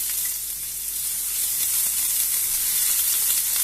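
Cumin seeds and finely chopped onions fry in a little oil, giving a steady, even, close-up sizzle with a soft hiss and no talk.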